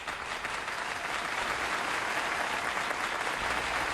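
Steady, dense applause from an audience, sustained and fairly loud across the whole stretch without letup.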